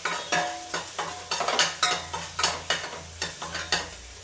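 Chopped spinach stirred into softened onions frying in a pan, with repeated scraping strokes of a spoon against the metal over a steady sizzle, close and fairly loud.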